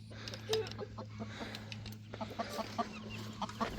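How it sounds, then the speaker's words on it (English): Farm chickens clucking inside a box, a busy mix of soft, scattered clucks and short calls at close range over a low background hum, no talk. "It's just birds in a box."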